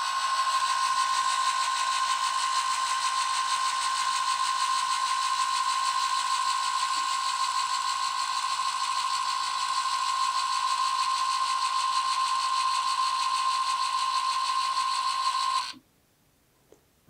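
An Asahi/America Series 92 electric actuator motor turns a valve during calibration, giving a steady whirring hum with a constant tone for about fifteen seconds before it abruptly stops, leaving near silence.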